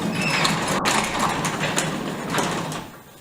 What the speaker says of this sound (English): It's a pretty hefty planer.